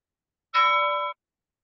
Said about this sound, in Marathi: एक बेल पण वाजली असेल आता.